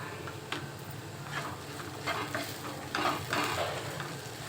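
A spoon stirs coconut chili powder into okra frying in a pan, a steady scraping and sizzling with a few louder strokes against the pan, close and continuous.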